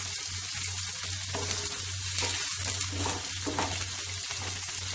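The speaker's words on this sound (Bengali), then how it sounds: "পেঁয়াজগুলো হালকা ফ্রাই হবে, খুব বেশি লালচে হবে না, জাস্ট হালকা সফট হবে" Chopped onions gently frying in a pan for butter chicken, giving a steady, close sizzle that runs without pause under a low constant hum, with no voices.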